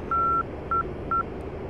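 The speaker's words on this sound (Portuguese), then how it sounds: "Esse é o som do Takam." A TACAN navigation beacon tone in the DCS World M-2000C flight simulator plays as three clean, steady beeps: one long, then two short, at moderate level over a low cockpit rumble.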